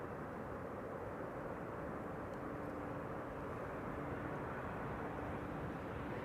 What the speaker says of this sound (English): Here it is, Emirates Flight 147, arriving from Dubai and coming for the Kaagbaan,